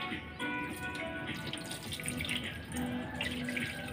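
Water poured onto uncooked rice in a pot to wash it before cooking, a steady close splashing stream running continuously for about four seconds with no talk.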